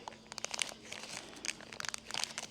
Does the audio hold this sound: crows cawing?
no